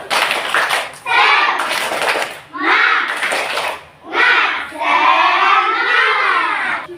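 A class of children claps a rhythmic spirit-clap chant in a classroom coding lesson, several bursts of clapping and shouted chanting filling the room, close and loud, with short pauses between phrases.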